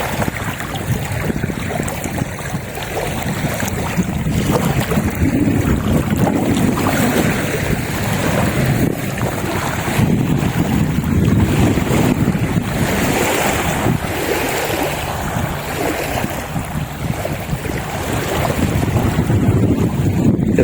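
Waves wash and lap steadily against the shore of Huai Mai Teng Reservoir in Chom Bueng, Ratchaburi, Thailand, mixed with gusty wind buffeting the microphone, continuous and fairly loud with no voices.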